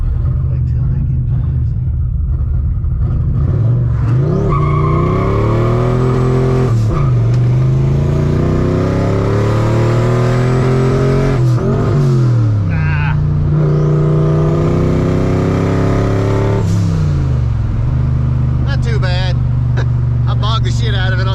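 A VMP Odin supercharged Ford F150 engine runs loud and close, its low rumble rising and falling through several revs with a whining note that climbs and drops, while people talk over it.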